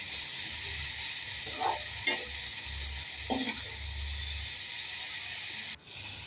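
Prawns fry in oil with onion and masala paste, a steady close sizzle broken by several scraping stirs of a spoon against the pan.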